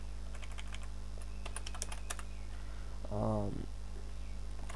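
Rapid bursts of clicking keystrokes on a computer keyboard, fairly faint over a steady electrical hum, pausing while a short voice comes in near the end.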